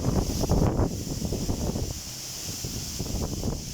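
Strong wind buffeting the microphone near wind turbines, a continuous rumbling roar with gusty surges and no voices.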